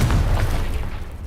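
A single heavy blast from the Confringo spell in the Hogwarts Legacy game, with a punchy onset and a rumble that fades over about a second.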